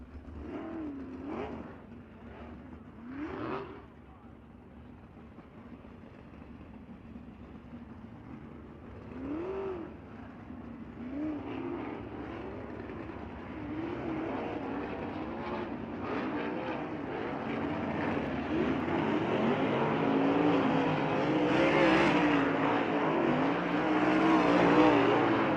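Dirt race car on hot laps at Bubba Raceway Park, its engine droning and swelling as it winds up and accelerates, growing louder and denser over the whole stretch with faint pops early on.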